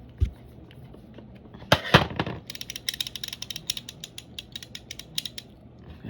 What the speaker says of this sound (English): Let's tighten the adjuster down a little more.